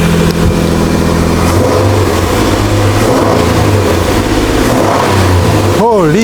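A 2013 Nissan Frontier pickup's engine revs loudly and close as the gas pedal is pressed, the pitch climbing and falling in repeated surges, with a sharper rise near the end.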